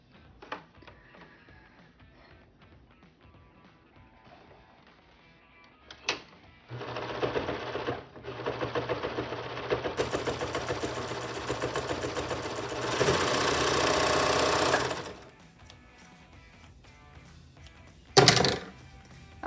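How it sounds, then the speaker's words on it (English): A sewing machine stitches a fabric surgical mask in close, loud runs of rapid mechanical whirring, with a quieter start, a brief stop and a sharp thunk near the end. "And back to the sewing machine."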